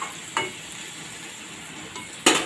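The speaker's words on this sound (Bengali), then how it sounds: "এবারে একটু উপর নিচ করে দিই" Banana stem curry (thor ghonto) cooking in a pan gives off a steady low sizzle, with two sharp scraping stirs against the pan near the start and the end.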